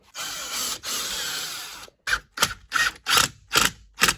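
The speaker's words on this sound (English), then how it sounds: "Then pre-drill and set your second screw." A power drill pre-drills and drives a screw into wood while installing a door privacy lock, one long steady run, then five short, sharp bursts, close by with no talking.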